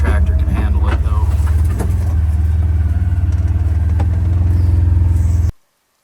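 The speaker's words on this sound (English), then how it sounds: "I don't know if that little garden tractor can handle it though." A small garden tractor rolls along a rough dirt road, its engine droning in a loud, steady low rumble close by with faint rattles, before cutting off abruptly at the end.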